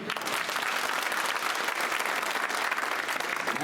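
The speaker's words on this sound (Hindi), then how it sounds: "तालियां थोड़ी कम बजी।" A crowd at an outdoor election rally claps in a dense, even burst of applause that stays loud and steady throughout, with no break.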